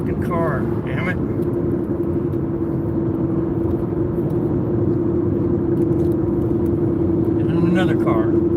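A car passes by in a steady rumbling drone with a low engine hum that holds throughout, while a voice talks over it in bursts near the start and end.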